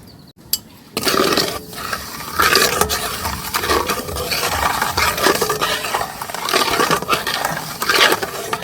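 A spoon scrapes and stirs hot milk with half a cup of sugar in a pot, with loud, close, repeated scraping strokes after a brief quiet start and no talking.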